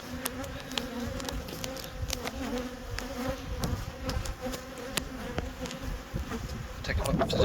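A dense, steady buzzing of many bees from a Layens hive fills the air, close and continuous, with occasional individual insects zipping past.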